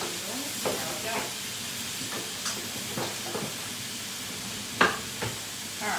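Ground beef frying in a pan for sloppy joes, with soft sizzling throughout and scattered scraping, chopping clicks as a mix and chop tool breaks up the meat, one sharper knock near the end.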